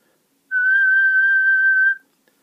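A person whistles one clear, steady note, held for about a second and a half, close and alone.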